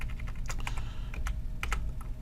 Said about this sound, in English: So I'm just going to use the arrows on my keyboard.